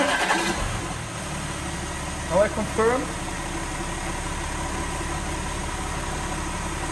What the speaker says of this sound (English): you have to make sure that the car is running